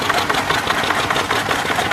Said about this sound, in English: Another Southern Cross diesel.